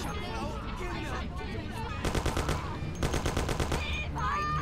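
Rapid bursts of automatic gunfire in the video game Mafia during a car chase, two sharp rattling volleys in quick succession over game sounds, with a player talking between them.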